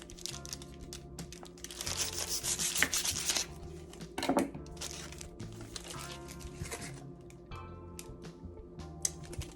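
A knife saws through a vegan Philly cheesesteak sub filled with Impossible Burger and veggies, making soft rasping, crinkly strokes that build into a brief rougher burst, then quieter scraping.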